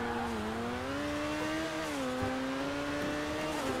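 A modified car in GTA Online, heard from close by, revs hard and accelerates with a continuous engine tone whose pitch rises steadily, with no talking.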